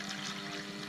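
Water pours into the trough of a sharpening wheel used for a Gränsfors Bruk hand-forged axe, a brief steady rushing splash heard close up without talk.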